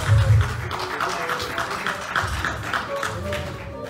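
An audience at a political fundraiser in New York City applauds a monthly donor, a steady wash of clapping with a few low voices mixed in.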